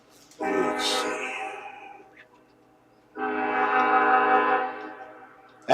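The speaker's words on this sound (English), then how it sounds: "That's the train." A train passing near an apartment at night, its horn sounding in two long, loud, harmonic blasts separated by a short quieter gap.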